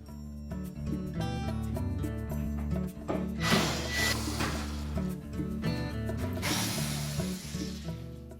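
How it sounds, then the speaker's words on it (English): Screws come out of the corners of a Whirlpool electric range top: a close, steady ratcheting click from a hand tool runs throughout, with brief louder metallic rattles. "You'll note that there's one screw in either corner, and we'll need to remove those."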